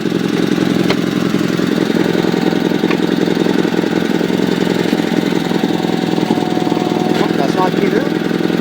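A 1974 Sears Suburban SS16 riding tractor's engine runs continuously with a loud, rough, steady drone close by, and a few faint clicks and clanks sit on top of it.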